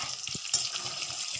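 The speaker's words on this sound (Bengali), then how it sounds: "গাইস লাল লাল করে ভাজা হচ্ছে" Battered pakoras deep-frying in oil give a steady, fairly quiet hiss and crackle, with a few soft low thumps from handling, and no voices.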